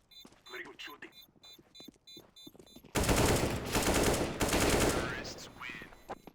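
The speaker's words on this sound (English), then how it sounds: "Very good shooting." Gunfire in the game CS:GO: after a stretch of talking over game sounds, a dense, loud burst of rapid automatic weapon fire rattles for about three seconds, then fades as shots thin out, with a voice speaking at times.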